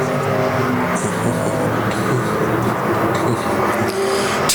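IMCA stock cars racing on a dirt speedway in Arizona, engines roaring steadily and loudly as the lead pair runs down the back straightaway into turn three, with a dense crowd of motors droning and no gaps.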